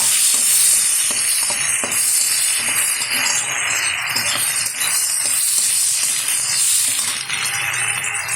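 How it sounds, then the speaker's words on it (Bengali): Chopped tomatoes frying in hot oil for a crab curry sizzle steadily and fairly loudly while a utensil stirs them with soft, occasional scraping and clinks, and no voices. "একটু নেড়ে চেড়ে নেব।"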